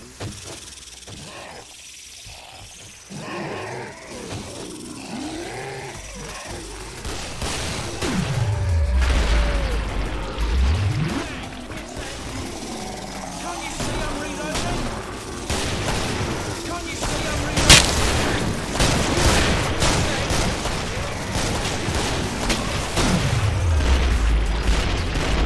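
Gunfire and explosions from the video game Killing Floor, with dense rapid shots and booming blasts throughout, plus a few deep falling whooshes, fairly loud and continuous under occasional game voices.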